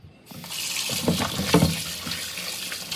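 Tap water runs steadily over fresh corn in a sink, a close, continuous gushing splash with shifting tones as the ears are turned under the stream.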